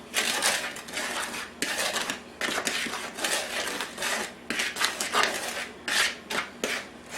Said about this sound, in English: You want to mix this really good before you add your buttermilk